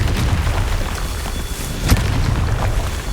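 Confringo spell blasts in the Hogwarts Legacy video game: heavy, rumbling booms with dense low-end energy and one sharper crack partway through, loud and continuous, with no speech.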